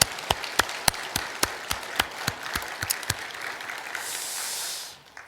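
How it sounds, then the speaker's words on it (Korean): About a dozen distinct, evenly spaced hand claps ring out in a church congregation at Sunday worship, with soft hissing behind them and a burst of noise near the end. "감사의 박수로 영광부터 한번 돌립시다."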